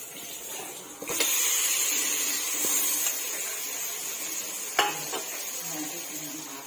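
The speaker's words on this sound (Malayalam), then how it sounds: "പച്ചമണം മാറുന്നത് വരെ നമുക്ക് 30 മിനിറ്റ് ഇളക്കിക്കൊണ്ടിരിക്കാം." Chicken masala is stirred in a pan with a spoon, giving a steady, moderately quiet scraping and sizzling sound, with a couple of sharp metallic clinks against the pan.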